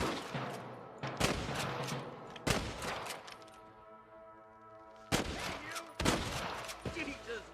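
Gunfire in the Western video game Red Dead Redemption, several loud sharp volleys of shots in bursts with ringing tails between them, a voice briefly heard amid the shooting.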